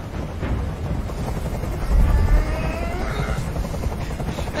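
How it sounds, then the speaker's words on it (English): Helicopter in the Dead Rising video game, a loud throbbing rotor chop with a buzzing engine whine, steady and close with a brief surge in the middle. "I can't stand that noise anymore. Tell that helicopter to get out of here."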